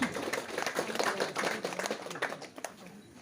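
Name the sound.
applause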